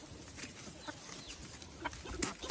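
Chickens, a newly arrived backyard flock being fed, cluck softly in scattered short bursts, faint and close, with light rustling between calls.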